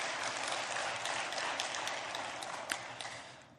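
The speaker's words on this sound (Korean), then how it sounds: "아주 다 박수 한번 해주죠" Church congregation applauding during an online-streamed worship service, a steady, fairly faint wash of clapping that holds throughout and thins out near the end.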